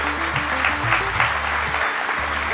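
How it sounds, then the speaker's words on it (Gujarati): Audience applause welcoming guests at a Gujarat state principals' association convention: a dense, steady round of clapping from a large hall crowd, with a low background tone running beneath it. "આ બધા જ મિત્રોનું તાળીઓના ગડગડાટથી મિત્રો સ્વાગત કરીએ"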